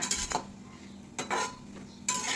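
Cashews and almonds roasting in ghee are stirred in a pan, with scraping spoon-on-metal strokes in three bursts over a low sizzle, close and fairly quiet, no talking.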